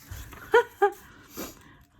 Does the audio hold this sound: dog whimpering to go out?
yes